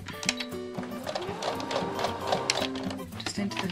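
A sewing machine stitches an apron with contrast thread in a steady, close mechanical whir with fast rhythmic needle chatter, while someone talks over it.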